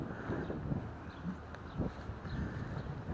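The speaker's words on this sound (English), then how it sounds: "And it's windy." Steady wind buffeting a microphone outdoors in a park, a low continuous rumble with faint gusty thumps and rustling.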